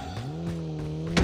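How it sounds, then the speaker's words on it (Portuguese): A video game car engine drones with steady harmonic tone close by, rising slightly in pitch, followed at the end by a brief sharp burst of noise. "Carro vindo."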